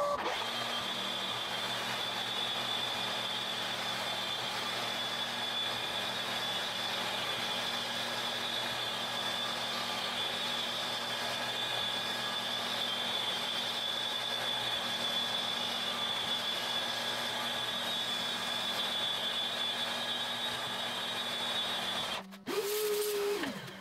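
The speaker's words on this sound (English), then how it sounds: "So what I'll do next is mount this on the mill and just skim the feet" A small 10mm end mill on a milling machine skims the feet of a mini lathe bed, giving a steady, continuous machining whine and hum at close range that runs unbroken until a brief clunk near the end.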